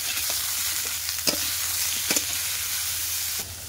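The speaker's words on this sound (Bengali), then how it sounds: "আলু ফুলকপিটা ভালোভাবে ভাজা হয়ে গেছে" Potatoes and cauliflower fry in hot oil in a pan, a steady sizzle broken by a few sharp scrapes and clacks of stirring, close and alone without talk.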